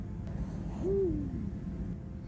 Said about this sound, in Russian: слышите, сова за окном кричит. Ухает громко так